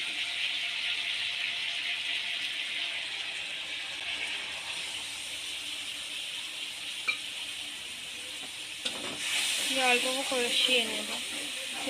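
A wet spice paste of ginger, chilli, turmeric, cumin and coriander hits hot oil with fried cumin in a pan for ridge gourd dal, giving a soft steady sizzle that bursts louder near the end.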